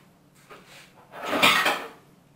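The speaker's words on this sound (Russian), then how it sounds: "И закидываю его в духовочку" A metal baking tray holding a carp with roasted vegetables slides into an oven with a short metallic scrape and rattle, loud and close, preceded by a couple of softer clinks.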